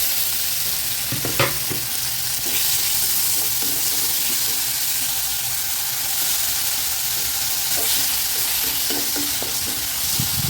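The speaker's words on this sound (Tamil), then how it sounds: "தக்காளி கொஞ்சம் வதங்கட்டும்" Tomato sautéing with onion and curry leaves in a pan, a steady close sizzle with occasional scraping stirs and light clinks running throughout.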